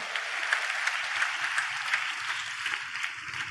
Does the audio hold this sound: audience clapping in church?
yes